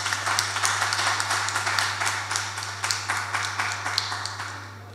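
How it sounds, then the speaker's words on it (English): A crowd at a community gathering in a secondary school hall applauds the government, brisk clapping with distinct individual claps, strong at first and slowly thinning, over a steady low electrical hum. "I do think that they need a round of applause for that"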